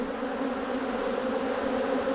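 Agitated honeybees swarm during an open hive inspection in western Oklahoma, making a dense, continuous, close-up buzzing drone that holds steady without a break.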